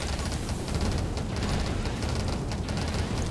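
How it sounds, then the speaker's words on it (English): Explosion in the top-down shooter game 20 Minutes Till Dawn, a dense, continuous rumbling blast with crackling bursts layered over sustained low roar, loud and close throughout with no pause. "Oh, it's the explosion."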